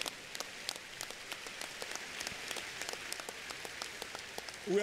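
A church congregation at a worship service applauds steadily, a dense, even patter of many hands clapping with no voices on top.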